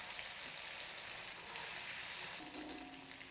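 Marinated prawns sizzle steadily in hot coconut oil, a dense continuous frying hiss with a few brief stirring clinks near the end.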